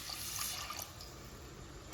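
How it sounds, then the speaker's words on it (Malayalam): A glass of water poured into a simmering fish curry gives a soft, steady rush of liquid over about two seconds, close but quiet, ending in a brief louder splash, with no talking. "ഇതിലേക്ക് ഒരു ഗ്ലാസ് വെള്ളം കൂടി ആഡ് ചെയ്യും"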